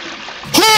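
A toilet flushes in the horror game The Ghost Train, starting as a sudden watery rush partway through and staying loud and splashy to the end.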